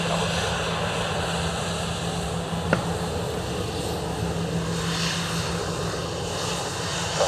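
A Ryanair airliner on runway 10 right at Dublin Airport gives off a steady broad engine roar, distant and continuous, with a brief click partway through.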